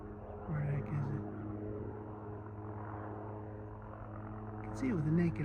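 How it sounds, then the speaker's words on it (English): A helicopter flies in the distance over the Panhandle Trail near Midway and Bulger. It makes a faint, steady low drone beneath nearby outdoor noise, and a voice is heard. "There's a helicopter over there."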